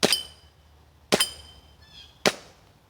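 Three sharp, loud pops from a WE Ultra Carry Pro airsoft pistol, fired about a second apart, each with a crisp metallic snap that rings briefly and decays quickly, heard close up with no talking.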